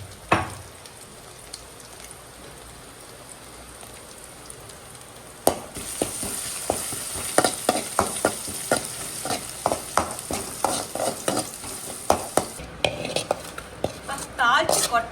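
Crushed garlic tempering in sesame oil, poured into a dish: a quiet stretch, then a sudden loud sizzle with repeated spoon-on-pot clinks and stirring, close and busy.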